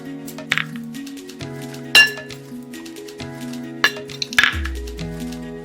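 A spoon clinks and scrapes against a bowl while stirring besan, green chilli, boiled corn, ajwain, salt, chilli and turmeric into a chilla batter. Several sharp, close clinks sound over a steady background tone.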